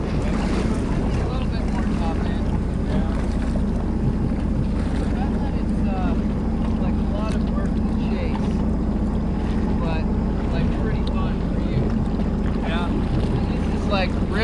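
Yamaha Waveblaster 1200, Superjet, 701 Waveraider and Sea-Doo RXP 260 jet skis running on the water, a loud continuous engine drone with heavy wind buffeting the microphone and splashing spray, sustained without pause.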